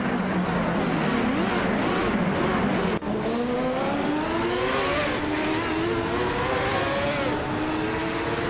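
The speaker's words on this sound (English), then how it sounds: "is cruising in a Lola T9500" A Lola T9500 race car in a racing video game drones loudly at high revs, its engine pitch climbing through gear after gear with a brief break at a shift, continuous and close.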